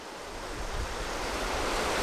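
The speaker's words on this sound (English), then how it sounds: "There's this little waterfall going into this pool right here." Small waterfall pouring into a hot spring soaking pool, a steady broadband rush of falling water with a low rumble, close and continuous with no voices.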